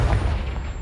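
A short, loud, low boom as a Confringo explosive spell detonates in a video game, a single muffled blast filling the moment.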